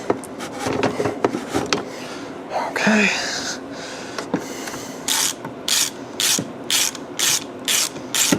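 Ratchet backing out the drive clutch bolt on a Polaris RMK snowmobile, a run of about seven sharp, evenly spaced clicking bursts near the end, after some earlier scattered mechanical handling noise.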